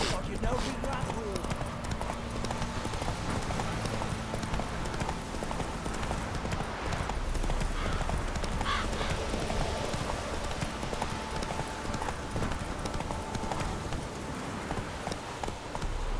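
Horse hooves galloping in The Witcher 3: Wild Hunt, a steady rhythmic clip-clop of running hooves under continuous game sound and music throughout.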